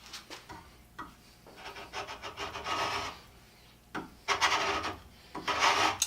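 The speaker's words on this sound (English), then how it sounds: "holding the blade perpendicular to the surface, it'll scrape" A Stanley chisel held perpendicular to a wooden surface scrapes in repeated rasping strokes, each a gritty burst with short pauses between, fairly close and moderately loud, with no voices.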